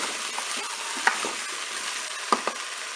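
Tomato pieces, olives, potatoes and pepper strips are stirred together in a Cookeo pot, a soft continuous frying hiss with a few sharp utensil scrapes and clicks.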